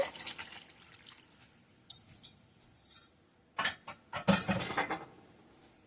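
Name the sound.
pouring cornstarch and water slurry into soup pot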